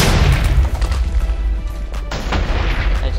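Loud booming cannon blasts from a USS Defiant Mk II starship in a video game, deep low rumble, a couple of sharp reports in quick succession, close up.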